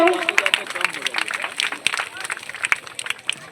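Audience claps at a school inaugural ceremony, a steady patter of many hands, near and moderately loud, mixed with some crowd noise.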